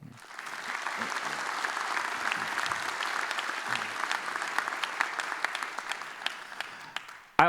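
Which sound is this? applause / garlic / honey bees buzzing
applause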